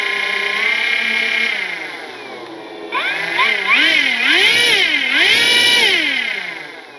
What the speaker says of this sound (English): I want you to listen to this motor now.